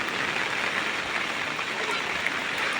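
Steady rain pouring down at a village home in Bangladesh, a dense, even hiss that stays unbroken and close throughout with no talking.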